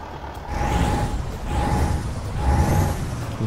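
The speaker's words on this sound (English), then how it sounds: "Trying to figure out what that high-pitched noise is, if that's just the turbocharger spooling." A turbocharger on an Iveco 190-38 truck in Euro Truck Simulator 2 gives a high, rising and falling whoop over the idling engine rumble, repeating roughly every second, close and steady with no talk.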